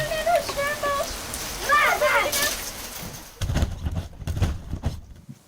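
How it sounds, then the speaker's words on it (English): Rain patters steadily on a surface, with birds chirping early on and muffled speech-like sounds partway through. "It's raining, it's raining."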